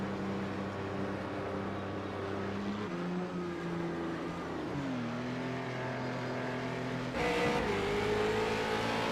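Late model race cars at Thompson Speedway accelerating on a restart, a sustained engine drone rising in pitch through several gear shifts, with a louder surge near the end and no talk.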